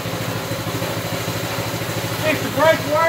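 A Baja Warrior 200cc motorcycle engine runs steadily with the choke on, a close, loud, even idle throb with a slight rise in revs toward the end and a voice over it.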